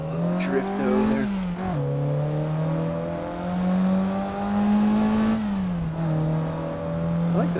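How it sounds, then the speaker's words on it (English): A car engine in Assetto Corsa on Los Angeles canyon roads revs and holds a droning whine, the pitch rising and dipping as it accelerates and eases off, loud and close. "I like the sound of this car."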